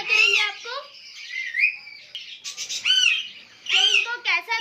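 A female ring-necked parakeet in a backyard parrot breeding setup squawks repeatedly and loudly, close by, in harsh rising calls with short gaps between them.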